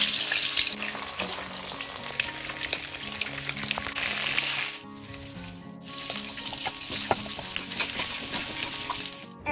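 Salt-marinated katla fish frying in oil, a close, dense sizzle with crackles and scattered spatters, briefly cut off once before resuming, no voices.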